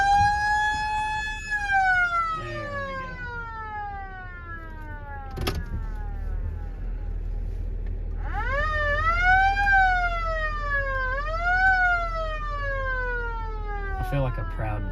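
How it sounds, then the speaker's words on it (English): A ranch siren on a Texas cattle ranch in calving season, calling cattle to feed, wails loudly in long rising and falling sweeps over a low steady engine rumble, with a few sharp knocks. "that siren acts as a dinner bell"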